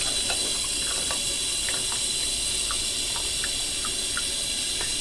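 Tap water runs steadily into a Bialetti Brikka coffee pot, filled up to the line, with a constant hissing stream and a few small clinks over it, close up and without talk.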